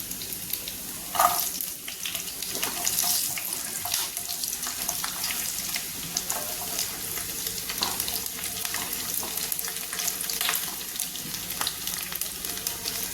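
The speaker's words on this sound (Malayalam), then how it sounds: "ഇഞ്ചി ഒന്ന് മൂത്തിട്ടുണ്ട് നമുക്ക് അതേപോലെ തന്നെ ആ അളവിൽ തന്നെ കുറച്ച് വെളുത്തുള്ളി ഇട്ട് കൊടുക്കാം" Ginger and garlic fry in a pan on a home stove for a jackfruit masala, producing a steady close sizzle with stirring clicks and intermittent running-water splashes.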